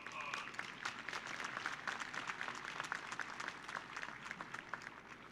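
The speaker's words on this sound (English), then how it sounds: "Let's give our board a big round of applause." Audience applause for the school board at a high school graduation ceremony in Spring ISD, a steady wash of many hands clapping at a moderate distance, continuing unbroken throughout.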